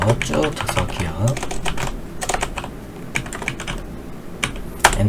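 Rapid clattering keystrokes on a computer keyboard while filling spreadsheet cells, with repeated sharper taps of the Enter key, close and steady in irregular bursts.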